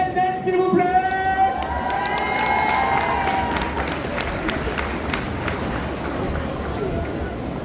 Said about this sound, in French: Je vous demande un peu d'applaudissements pour Hélène Den, s'il vous plaît.